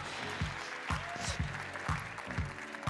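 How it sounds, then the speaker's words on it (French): An audience at a tech awards ceremony applauds a laureate, a close, continuous wash of clapping with a few louder individual claps standing out. "On peut l'applaudir encore plus fort"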